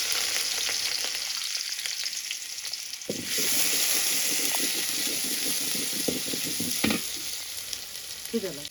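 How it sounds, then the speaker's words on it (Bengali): Chopped onions sizzle and hiss in hot soybean oil in a cooking pot, the frying steady and close, growing fuller about midway with scraping stir sounds for a jute-leaf and shrimp curry. "তেলে পেঁয়াজ দিতেছি।"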